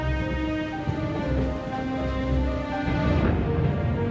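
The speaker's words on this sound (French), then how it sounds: "regardait la pluie tomber par sa fenêtre" Rain falls steadily during a storm in an animated fairy tale set in a castle, a dense continuous hiss under a sustained tonal backdrop, growing a little louder toward the end.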